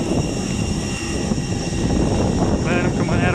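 An EasyJet airliner's engines roar steadily during climb out of Tenerife, heard from inside the cabin as a loud, constant broadband drone with a faint voice near the end.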